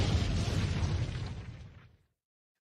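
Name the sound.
bomb explosion sound effect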